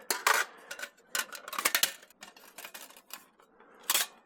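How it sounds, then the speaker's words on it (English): Metal Firebox camp stove being opened and unfolded: a series of sharp metallic clicks, clanks and scrapes in irregular bursts, close and crisp against quiet pauses. "I'm going to go ahead and open the stove up"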